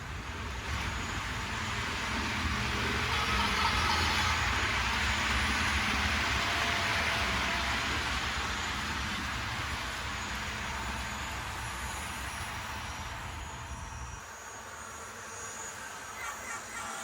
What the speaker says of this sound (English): Hey Jason, something's wrong with the sound of the turbine.